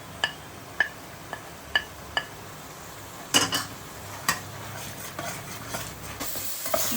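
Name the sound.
spice masala frying in a pan for fish curry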